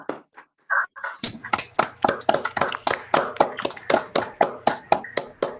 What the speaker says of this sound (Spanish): darle un aplauso al doctor Zeus